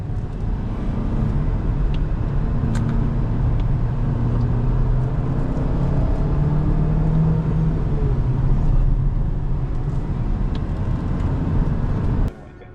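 A 2023 GAC Empow 1.5 sedan in Sport Plus mode on a mountain road, its engine and road noise a loud steady drone with rising and falling revs heard from inside, ending abruptly near the close.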